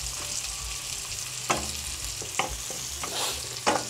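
Onion and garlic sautéing in a pot for a Filipino sopas, with a low continuous sizzle broken by several sharp spoon scrapes and clinks against the pot at irregular intervals, close and quiet, no voices.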